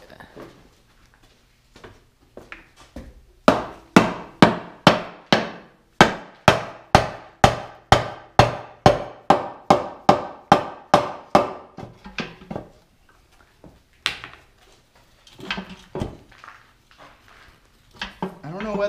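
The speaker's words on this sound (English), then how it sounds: "So, I'm going to whack it with a hammer." A hammer whacks a stuck part loose on a boosted Mazda Miata, a long run of about twenty sharp metallic blows in steady rhythm, close and loud, followed by a few scattered knocks and handling noises.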